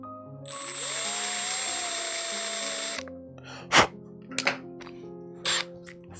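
A 4 mm reamer working a part for a Stealth Changer 3D printer kit, a steady whirring tool tone for about three seconds, close and fairly loud, followed by a few sharp knocks and a short gasp.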